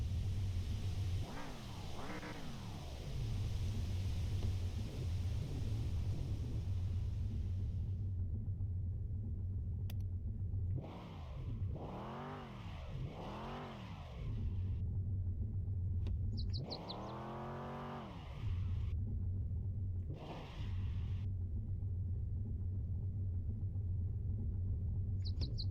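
Car engine in the driving game Mon Bazou, a steady low rumble running throughout with brief revving swells, while faint bird chirps sit in the background.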